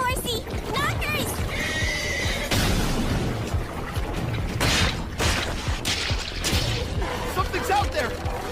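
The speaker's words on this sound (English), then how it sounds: "Was that a girl on horseback?" A horse whinnies loudly in an English-dubbed anime, its neighing mixed with hoofbeats and the commotion of a battle scene while characters shout and talk.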